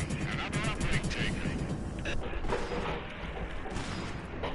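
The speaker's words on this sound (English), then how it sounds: "I hear gunshots," Bursts of rapid gunfire crackle through a dense, noisy mix in the co-op video game Intercept, with explosions and clatter continuing steadily throughout.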